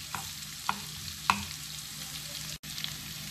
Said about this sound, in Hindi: अब उसके अंदर मैंने ये गार्लिक जो है, ग्रेटेड गार्लिक ये डाल देना है।